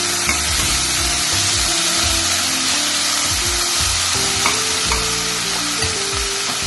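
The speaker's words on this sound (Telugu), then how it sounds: "కరివేపాకు అన్నీ వేసి బాగా వేయించుకోవాలి, కలుపుకోవాలి విధంగా" Curry leaves and potatoes frying in oil in a pan for an alasanda (black-eyed pea) and potato curry, a steady loud sizzle with repeated scraping stir strokes throughout, no voices.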